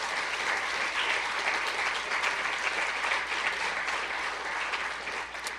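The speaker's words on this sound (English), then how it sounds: "I'd like a round of applause for the Law Foundation." Steady, dense applause from a lecture audience honouring the Law Foundation at a law review lecture, a sustained wash of many hands clapping at even loudness with no talking, tapering only slightly at the end.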